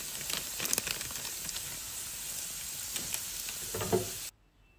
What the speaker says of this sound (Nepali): धेरै बेरसम्म चाहिँ भुट्नु हुँदैन, जस्ट 4-5 सेकेन्डसम्म चाहिँ यसरी चलाएर पकाउनु।